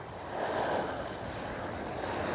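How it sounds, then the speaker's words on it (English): A Transavia Boeing 737 airliner at Schiphol Amsterdam gives a broad, steady engine roar, rushing and slightly swelling, heard from a moderate distance for a couple of seconds. "Right here, Transavia 737."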